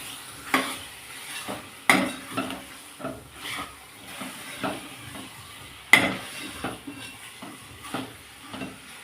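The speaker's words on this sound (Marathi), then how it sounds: "आपण व्यवस्थित असा चमच्याने आता ढवळून घेतलेला असा" A spoon stirs dry chicken masala in a pan, giving scraping clinks against the metal in uneven strokes, several sharp knocks standing out, with a faint sizzle beneath and no talking.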